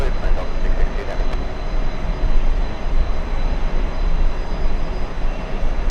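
A Delta heavy jet airliner departing JFK gives off a steady, broad engine roar that swells and stays loud throughout, with no talk heard.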